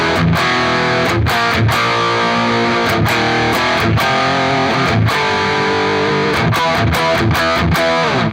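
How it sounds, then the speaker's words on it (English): Electric guitar played dry through an amplifier with the reverb switched off, carrying a gritty, distorted tone in a steady strummed rhythm of repeated chords, close and loud with no voices. "Let's turn the reverb off and just hear the amp all by itself."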